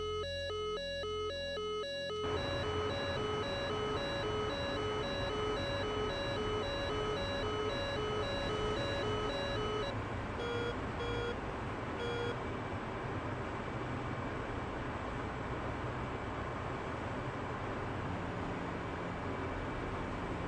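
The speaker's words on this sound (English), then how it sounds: "The alarm is super annoying." Warning alarm in the DCS flight simulator game: steady harmonic electronic tones sound loudly for a few seconds, then fade into continuous broadband cockpit noise with a few fainter tonal bursts.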